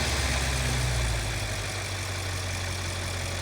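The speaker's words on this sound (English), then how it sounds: "the RPM is dropping. We're going down in idle speed." Audi RS7 engine idling with its revs easing down, a steady low rumble that drops in pitch after the first second and then settles into an even idle, heard close with no talk.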